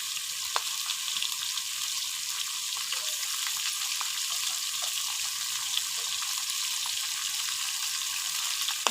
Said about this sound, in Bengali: এই দেখুন মাছ কিরম ভাজা হচ্ছে।